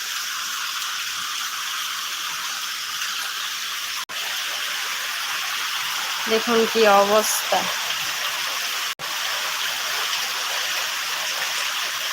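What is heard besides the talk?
heavy continuous rain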